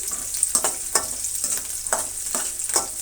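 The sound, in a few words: frying chopped garlic, ginger and green chilies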